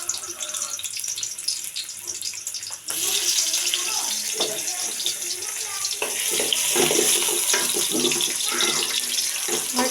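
Chopped onions tipped into hot oil in a wok for quick noodles set off a sudden loud, steady sizzle that carries on as a dense, close hiss, growing slightly stronger near the end.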